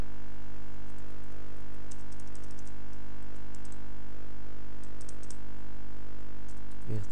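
Someone types at a computer keyboard while writing Java code, with scattered bursts of soft key clicks over a steady background hum, close and fairly quiet, with no speech.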